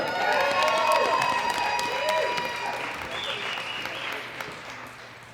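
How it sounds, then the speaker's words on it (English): At a world powerlifting championship, a crowd claps and cheers a new world record, with shouts and whoops rising over sustained applause that gradually fades, and voices calling out within the noise. "a big round of applause for Jennifer Hunter"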